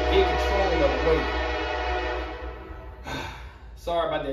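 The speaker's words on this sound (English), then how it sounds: "Sorry about that train right there" A train passes near an outdoor workout spot, its horn sounding as a sustained, layered tone over a low rumble that slowly fades, then returns briefly in short bursts at the end.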